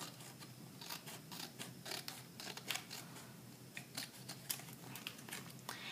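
Scissors trimming leftover paper scraps at a craft table, a quick series of crisp snips and rustles repeating steadily up close with no talking.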